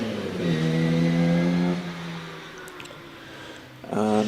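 A rally car on an evening hillclimb revs hard and climbs through the gears, its engine note rising and then fading as it pulls away, before another sharp rev bursts in at the end.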